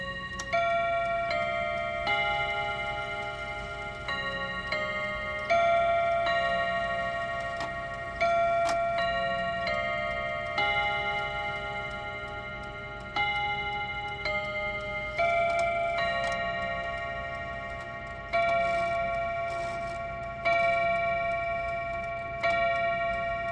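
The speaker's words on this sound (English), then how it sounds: "sounds like it's ticking good" A freshly serviced mechanical clock ticks steadily and close by, with ringing metallic chime tones that strike and fade at regular intervals as it strikes eight o'clock.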